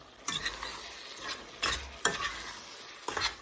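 Hungarian-style beans seasoned with sweet paprika get stirred in a pan: four distinct scraping sweeps of a spoon over a soft, continuous sizzle, up close, with no voices.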